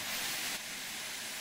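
Steam locomotive cylinder cocks venting in Train Sim World 5, a steady broad hiss of escaping steam that holds constant, easing slightly partway through, fairly soft and heard alone.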